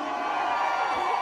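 An arena crowd at a Vengaboys concert in Manchester cheers and whoops in a dense, sustained roar, loud and continuous through the short moment.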